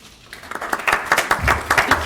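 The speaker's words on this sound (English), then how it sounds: "she deserves an applause for that" Applause from those attending a borough council meeting, a short burst of scattered clapping that starts light and builds to a steady patter of hands over about two seconds.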